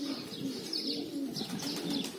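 Domestic pigeons coo softly in repeated low, throaty phrases, fairly faint and close, with a few light chirps mixed in and no talking.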